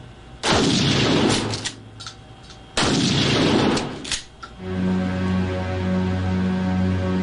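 A sawed-off shotgun is test fired twice indoors, each a loud, sharp blast followed by a booming echo, with a steady electric hum after the second shot.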